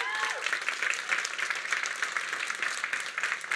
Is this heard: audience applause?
yes